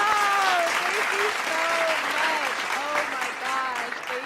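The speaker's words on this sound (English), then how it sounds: "We gotta give an applause to Esco for holding down the chat" Broadband applause for a livestream chat moderator, steady and dense throughout, with a voice talking and exclaiming over it.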